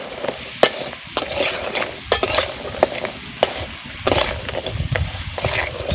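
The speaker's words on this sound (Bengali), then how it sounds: "কেটে রাখা কাঁকড়াগুলো ভালো করে মিশিয়ে নেব" Chopped crab pieces mixed and fried with okra in a pan for a sour crab curry, a close sizzle broken by irregular scraping and clattering strokes of a spoon.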